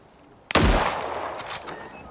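Rifle gunfire in the survival video game Icarus: a single sharp, loud shot with a long rolling echo and tail fading over about a second and a half, with no talk.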